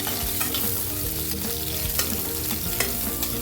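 Grated onion frying in sparkling hot oil, cooked with a little cumin seed for bread poha: a steady, loud, dense sizzle with faint clicks of stirring, no voices.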